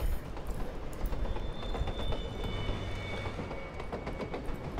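A train in Borderlands 2 on the Tundra Express line rolls steadily along its rails, with a continuous rumble and faint rhythmic clatter running throughout at a close, even level.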